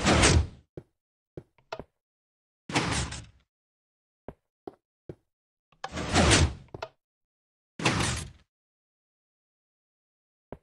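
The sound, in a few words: Minecraft 3x3 piston/sand door operating, from a video game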